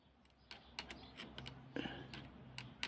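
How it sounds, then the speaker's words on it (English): Keys pressed on a 1959 Imperial Good Companion 5 manual typewriter: a series of crisp mechanical clicks and clacks at an irregular pace, close and fairly quiet, with no talking. "now watch what happens when I press one of the keys"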